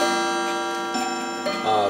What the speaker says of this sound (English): Part of my collection has decided to start chiming.